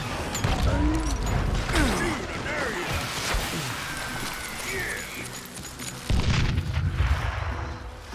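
Gunshots and heavy mechanical crashes in the Western shooter video game Call of Juarez Gunslinger, dense and loud over a busy layered mix, with a voice talking over the action.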